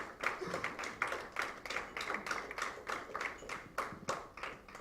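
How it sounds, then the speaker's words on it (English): Scattered clapping from a small audience at a dance research congress, soft and distant, with hand claps in a loose, fairly regular rhythm for a few seconds. "A big round of applause for every one of them."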